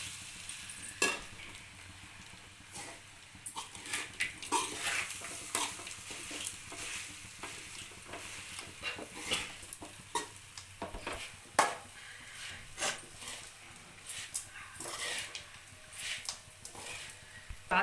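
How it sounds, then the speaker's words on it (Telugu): Cooked rice with salt is stirred in a pan for gongura pulihora: irregular scraping strokes and light utensil clinks over a soft background sizzle, without talk. "ఇప్పుడు దీన్ని బాగా మిక్స్ చేసుకోవాలి."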